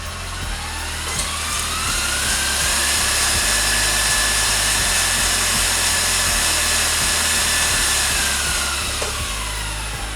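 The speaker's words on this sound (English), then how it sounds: "So I'm just going to break up these egg whites for just a couple seconds" Steady, loud electric mixer whir beating raw egg whites in a bowl for a pavlova, a continuous close drone with faint rhythmic ticking and no voices.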